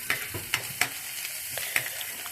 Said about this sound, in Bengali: দিয়ে এখন ভাজা ভাজা হতে দেবো